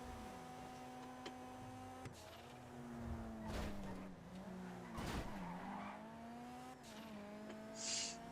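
A four-seat car driven in GTA revs and shifts through rising and falling engine tones, with tires squealing and skidding in several bursts, loud and alone with no talk.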